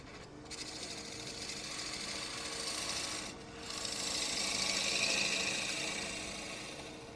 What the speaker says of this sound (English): So I'll just take a gouge across the face.